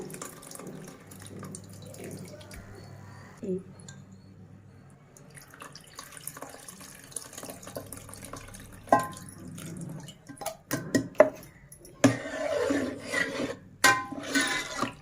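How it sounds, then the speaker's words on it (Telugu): Tamarind juice is poured into cooked dal while making Andhra-style pappu pulusu, a soft liquid splashing and trickling up close that grows louder toward the end, with faint kitchen clatter. "పప్పులో చింతపండు పులుసు వేసుకుని ఉడికించేసుకుని దీంట్లో కలిపేసుకోవడం"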